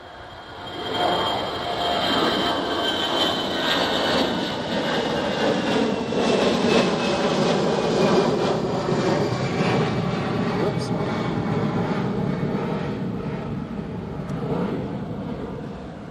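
An airliner taking off from Bristol Airport on a flight to Newcastle, heard as a steady, broad jet roar that holds loud for about fifteen seconds before easing slightly near the end.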